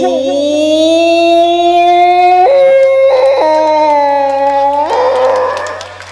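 A voice imitates a dog howling on a comedy stage, drawn-out wavering howls rising and shifting in pitch, loud and close.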